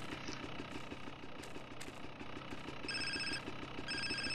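A telephone ringing in Grand Theft Auto: San Andreas, two bursts of trilling electronic rings over a steady idling car engine rumble.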